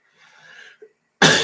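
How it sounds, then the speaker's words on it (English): A person gives one sharp, loud cough close to the microphone, breaking the quiet at the end of a soft stretch of faint background noise during a CLO3D leather bomber jacket design session. "Sorry about the coughing, guys."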